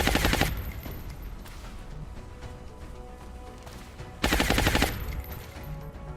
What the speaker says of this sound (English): That'd be 2 alloy cannon shots from here.